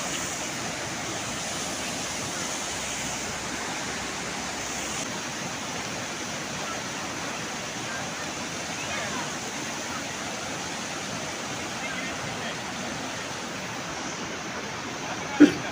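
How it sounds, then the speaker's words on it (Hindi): A fast river and waterfall rush in Neelum Valley, Kashmir, as a loud, steady broadband roar of water that continues unbroken throughout, with no talk over it. "बस दरिया का शोर था जो कि आप आगे सुनिएगा।"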